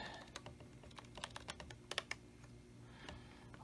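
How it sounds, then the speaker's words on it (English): The F10 key is pressed repeatedly on an HP computer keyboard: a string of quiet, close, irregularly spaced clicks over faint background hum. "All these F10 button presses."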